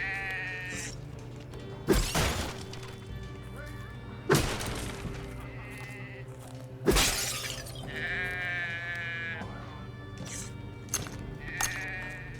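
Sheep bleat repeatedly in a French-language playthrough of the game Drova, wavering calls over a steady ambient game soundtrack, broken by a few loud crashing impacts.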